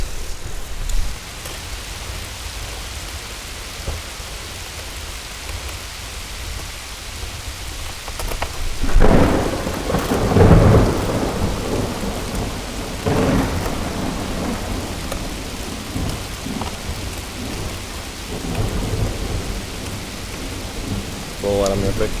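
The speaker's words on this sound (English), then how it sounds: "You can kind of hear the drizzle and rain coming in." Heavy rain patters steadily on an island campsite during a hail storm, with rolling thunder rumbling through the middle, building and fading over a constant wash of falling water.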